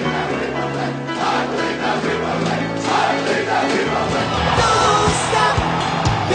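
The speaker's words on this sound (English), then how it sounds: "The crowd going bananas." A packed basketball arena crowd erupts in a sustained, loud roar of cheers and yells after a slam dunk, wild and continuous throughout with no break.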